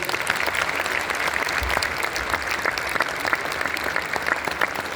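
An audience at an Arya Samaj ceremony at Bharat Mandapam gives steady, moderately loud applause that holds evenly throughout.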